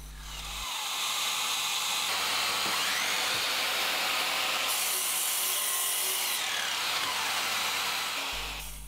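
A saw cuts steadily into a piece of wood while making a boot jack, giving a continuous close rasping sound that runs for several seconds and then stops.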